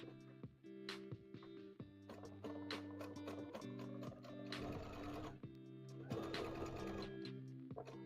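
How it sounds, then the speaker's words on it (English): A sewing machine stitches a Pokemon hat, its motor whirring in loud rhythmic runs with mechanical clicking and pauses between bursts of stitching, close and alone. "I'm sewing on the wrong side, technically, of the line, you know?"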